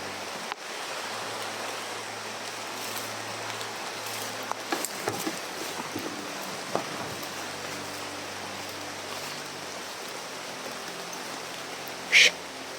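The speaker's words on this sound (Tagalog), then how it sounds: "Tol, sobrang lakas ng ulan." Heavy downpour roaring steadily as a dense broadband hiss, close and continuous, with a few brief louder bumps and a sharp spike near the end; no speech over it.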